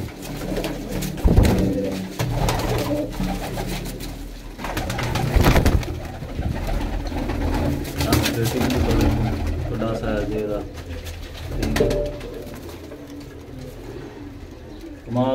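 Sialkoti pearl-eyed breeder pigeons coo repeatedly in a loft, low soft calls overlapping one another, while people talk nearby over the birds.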